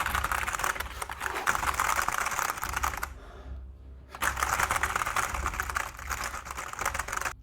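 Rapid computer keyboard typing, a steady stream of clattering keystrokes that breaks off briefly near the middle and then resumes, close and fairly loud, with no voices.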